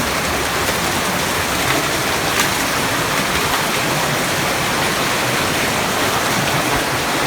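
Water flowing all year through a passage of the Crystal Caves near Paradise Valley, Montana, a steady close wash of rushing water with no pauses and no voices.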